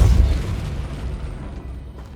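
A Depulso force spell cast in Hogwarts Legacy lands as a single loud, boomy blast at the very start, then decays into a low rumbling tail that fades over about two seconds.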